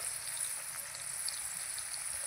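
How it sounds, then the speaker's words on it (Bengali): Potatoes frying in a covered pan, a soft even sizzle with light crackle throughout, steady and moderately quiet with no voices. "আলুটা ভালো করে ভাজার জন্য আমি ঢাকাটা দিয়ে দিচ্ছি"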